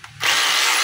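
A DeWalt D25032 rotary hammer switched on and run in reverse after repair, a sudden high whirring motor that starts abruptly and holds steady and loud.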